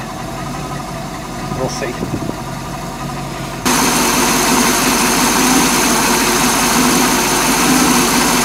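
A Tohatsu 5hp four-stroke outboard runs at a steady idle, then picks up louder as throttle is added, humming continuously with a brief word spoken over it.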